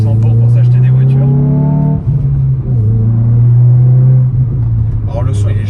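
A Hyundai i20 N's exhaust drones and rumbles loudly up close, with a rising rev early on, then a dip and a steady hold. Someone talks over part of it.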